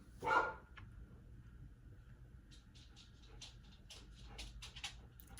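A dog gives one sharp bark near the start, then quiet with faint ticking and shuffling sounds in a hushed room.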